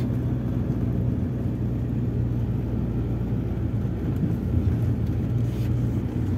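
A Proton Exora with manual transmission climbs a slope in second gear, its engine holding a steady low droning hum from inside the cabin, even and unchanging throughout.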